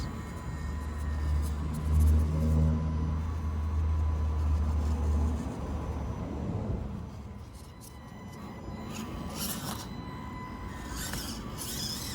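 An Axial SCX24 RC crawler on tractor tires churning through mud, a small electric motor whining and humming steadily at close range, easing off midway and then picking up again, with light squelching and rattles.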